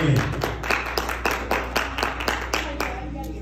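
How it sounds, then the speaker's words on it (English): A church congregation claps its hands in praise, a rhythmic series of a dozen or so sharp claps at a steady beat, fairly close and lively, with a voice heard briefly at the start. "Give God a hand clap"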